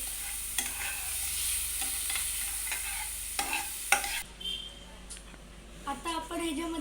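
Paneer is stirred and sautéed in a pan, with a soft sizzle and repeated scraping stirs of a spoon against the pan. A voice talks over parts of it, and the sizzle drops away partway through.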